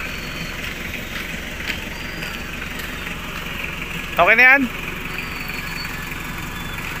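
A truck engine idles steadily with a low, even rumble that runs the whole time, close and constant, while someone briefly speaks partway through.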